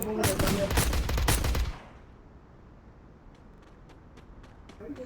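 Loud rapid gunfire from a battle royale video game fills the first couple of seconds, then stops abruptly and leaves quiet background ambience with faint clicks.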